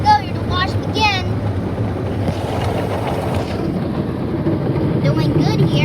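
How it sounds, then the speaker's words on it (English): A Ryko automatic car wash in Alum Rock, San Jose, California runs with spinning brushes and spraying water, giving a steady, close rushing and whooshing wash noise while a person talks over it. "The wash is starting now. Here we go, here the wash begin. The brushes are spinning"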